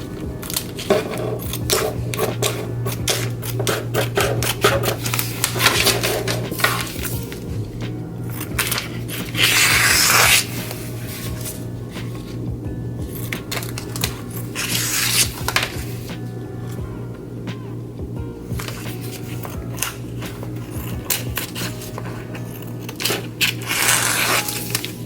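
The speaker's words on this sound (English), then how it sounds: "Now I'm just going to cut off the excess." Excess Cricut vinyl being trimmed on a tumbler, repeated crisp snipping and crinkling scrapes in irregular bursts over a low steady hum, close and fairly loud, no talk.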